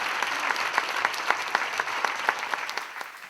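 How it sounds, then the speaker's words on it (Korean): A church congregation applauding during a sermon on Proverbs: crisp, fairly quiet clapping with distinct individual claps popping out in an irregular rhythm, thinning and fading toward the end. "좀 세게 쳐 박수 좀."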